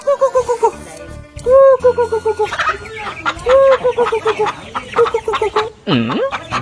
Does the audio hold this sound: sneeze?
no